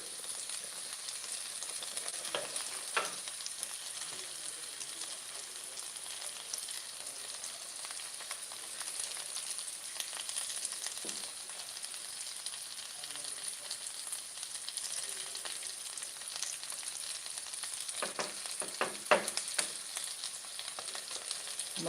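A pot of cabbage and peppers bubbles on a low flame, a quiet, continuous simmering hiss with occasional soft pops and utensil clinks.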